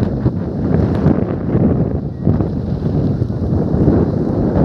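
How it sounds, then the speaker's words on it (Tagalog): Strong wind roars and buffets the microphone continuously, loud and close, with no voices, in Dingalan, Aurora Province, Philippines. "Malakas ang hangin."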